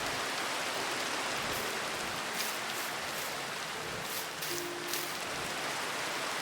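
Rain falls in the Minecraft video game as a steady, soft, even hiss with no break, heard alone with no voices over it.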